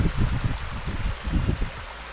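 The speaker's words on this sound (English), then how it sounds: "There you have it, highest waterfall in Africa." Tugela Falls, the highest waterfall in Africa, sends up a steady broadband rush of falling water. It is loud and continuous, with gusty low rumble that sounds like wind buffeting the microphone, and nobody speaks.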